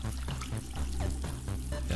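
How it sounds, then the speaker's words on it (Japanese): Water pours and splashes steadily in the game Among Us, a continuous rushing spray like a running shower. "みんなでシャワー気持ちいいね。"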